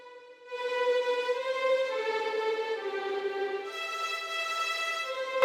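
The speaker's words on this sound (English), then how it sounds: "So these two violins." Two violins in an orchestral arrangement holding sustained notes whose volume gently rises and falls, a smooth bowed line stepping between pitches, clear and alone at moderate level.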